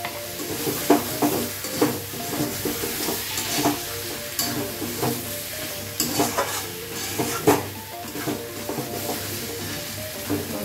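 Mutton sautéing in ghee with garam masala, a steady close sizzle broken by frequent scraping stirs and the clink of a utensil against the pot.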